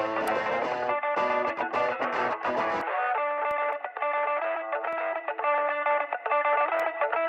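Thin, hollow electric guitar recorded through a very small amplifier, in a track. A fuller, distorted band passage gives way to a bright, boxy, toy-speaker-like guitar riff that repeats steadily and loudly with no voices.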